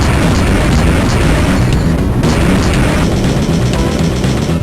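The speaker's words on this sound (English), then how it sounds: "I just got some kind of power-up gun. Just a rocket launcher." Rocket launcher blasts in the Game Boy Advance game Turok: Evolution, a dense, loud, continuous wall of booming explosions with no pause, crackly and compressed throughout.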